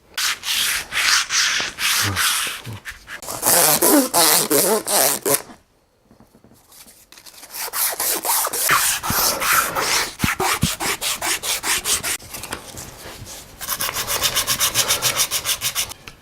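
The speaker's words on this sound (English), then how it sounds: "I've got to get the varnish off the entire bat" Sandpaper rubs briskly back and forth over a wooden baseball bat, stripping its varnish in loud, steady strokes that pause briefly midway before resuming with quicker scrubbing.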